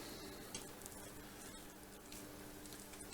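Sausage with skins removed frying for Bolognese sauce, a faint, steady sizzle with soft crackle and occasional stirring in the pan, no voices.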